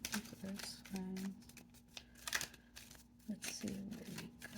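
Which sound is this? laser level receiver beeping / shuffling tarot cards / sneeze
shuffling tarot cards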